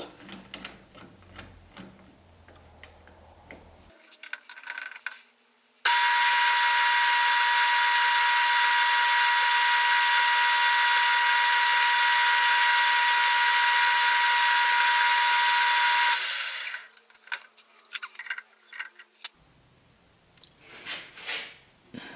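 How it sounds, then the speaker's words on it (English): A drill bores an 11/64 hole into a part for a homemade radial channel sprayer, a loud continuous whine of about ten seconds, preceded and followed by faint clicks and handling noises. "I need 11/64 drilled until I hit the other hole"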